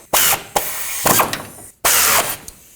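Sway bar bolts on a 2007-2009 Saturn Aura are tightened with a power tool, three loud close bursts of whirring and rattling separated by short gaps.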